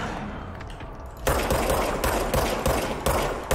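Automatic gunfire in a PC game starts quietly, then breaks into a loud, sustained rapid burst of shots that continues to the end, with no talking.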